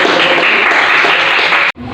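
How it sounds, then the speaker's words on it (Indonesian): Classmates clap for a group presentation in a school classroom, a loud, dense burst of applause lasting under two seconds before it cuts off abruptly. "Tepuk tangan sekali lagi dulu."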